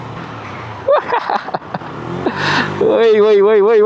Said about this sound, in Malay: aku rasa motor ni bunyi dia lagi sedap.